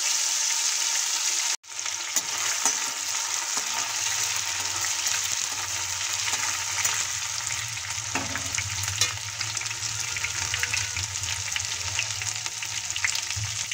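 Ginger with cumin, cinnamon and cardamom frying in oil left from pakoras, a steady loud sizzle with stirring scrapes after a brief break near the start, carrying on without talk.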